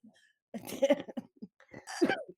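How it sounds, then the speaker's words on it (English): A person coughs in a harsh, rough fit of several bursts, close by, with throaty clearing between the coughs. "coughing attack is why I'm going to the pulmonologist"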